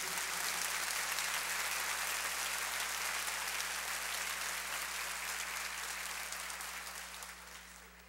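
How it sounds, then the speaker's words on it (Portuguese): A church congregation applauds during a Sunday morning service, sustained dense clapping that holds steady for several seconds before slowly fading at the end, with no talk over it. "dá uma salva de palmas a Jesus"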